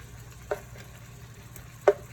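Shrimp sizzling in a frying pan for tacos, with a low steady fry and two brief louder scrapes or clatters as the pieces are flipped.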